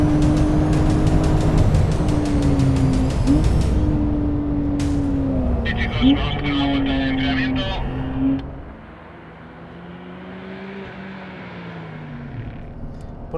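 A Porsche 911 Carrera S (992) flat-six engine is driven hard around the Ricardo Tormo racing circuit, its loud droning note rising and dropping through gear changes before settling into a quieter, steadier hum.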